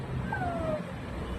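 A young child imitates a cat's meow, giving a single drawn-out, sliding mew that is close and clear, with no other talk over it.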